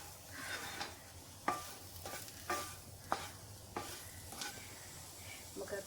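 Cooked jackfruit chunks are stirred in a sizzling pan, with a spoon scraping and clacking in irregular strokes over a soft, steady fry, heard close and fairly quiet.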